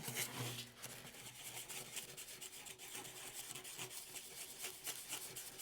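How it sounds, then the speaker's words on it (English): Hand sanding a dollar store decor piece, a steady dry rasping rub that continues throughout with fairly even loudness and no voice. "now that I have it sanded, I'm going to go ahead and get all the black off of it"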